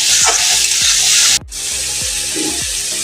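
Green chilli and garlic paste sizzles loudly in hot oil, broad hiss filling the clip with a few scraping stirs, a sharp brief drop near the middle before the frying resumes.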